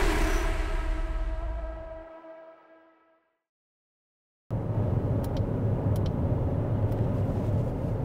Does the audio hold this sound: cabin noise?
yes